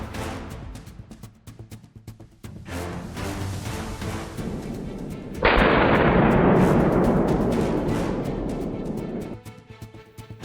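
Rifle gunshots ring out during a wild boar hunt with hounds in Texas, several sharp cracks early on followed by a loud sustained blast-like roar that slowly fades.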